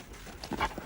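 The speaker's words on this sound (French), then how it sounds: "tête dure, Bakuni Wedey, mais c'est un bon chien pour tirer" A young mixed-breed sled dog, half Greenland dog, gives a short, faint whimper with soft panting, close by with no talking over it.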